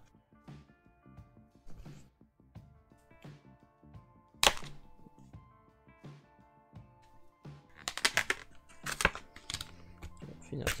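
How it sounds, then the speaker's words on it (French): A blue book cover for a Samsung Galaxy Tab S6 Lite is unboxed, with scattered taps, thunks and crinkly packaging handling, including a sharp knock near the middle and a cluster of louder rustles toward the end. "nous avons évidemment le book cover bleu que voici, et donc on va l'ouvrir."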